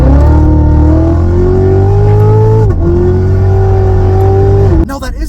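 A C7 Corvette Z06, rear-wheel drive, accelerates hard with a loud, rising engine roar climbing through the revs, a brief dip at a gear change, then cutting off abruptly near the end.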